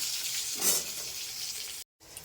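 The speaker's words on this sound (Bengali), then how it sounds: "একটু আলুটাকে ভেজে নিই" Potatoes sizzle in hot oil in a home kitchen pan, a steady bright hiss with a brief swell of stirring, cut off by a short silence before the frying resumes.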